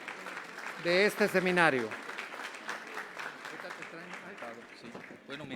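An audience at a PT international seminar applauds to welcome Dr. Alfredo Jalife for his keynote lecture, a sustained patter of clapping under a speaker's voice.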